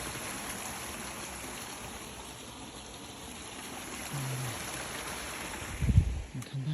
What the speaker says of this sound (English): it's got this nice little waterfall kind of thing